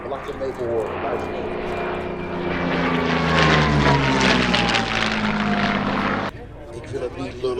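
A World War II Messerschmitt Bf 109 fighter flies past at a Liberation Day air display, its piston engine roaring loud and close, swelling to a peak, then cutting away abruptly near the end.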